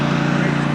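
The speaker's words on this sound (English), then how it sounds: "the terrible noise you hear in a lot of this video is actually the generator for the food truck" A food truck generator at an outdoor pageant grounds runs as a loud, continuous, close drone with a steady low hum and a faint rapid pulsing throughout.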